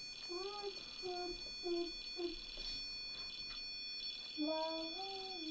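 Alarm sounding indoors: a thin steady high-pitched electronic tone runs throughout, while a voice makes rising wavering calls over it in short bursts.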